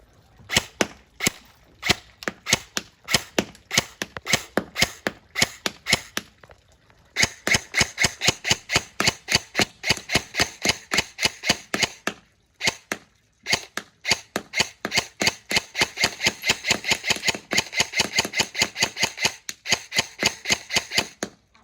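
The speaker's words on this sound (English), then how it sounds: "Now for the accuracy test. We're just going to do a quick couple shots at it." A Novritsch SSR15 airsoft rifle fires a long run of sharp, evenly spaced shots during a night accuracy test at a garage, loud and close, with brief pauses between strings.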